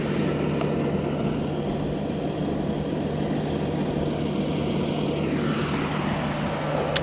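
Airplane passing overhead above a farm field during fertilizer spreading: a steady broad engine roar, distant and continuous, mixed with low machinery hum throughout.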